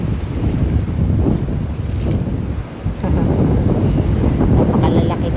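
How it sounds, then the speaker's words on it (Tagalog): Large waves surge against an Australian shore on a fishing outing at low tide, with heavy wind buffeting the microphone in a constant loud rumble and wash. "Napakalalaki ng alon."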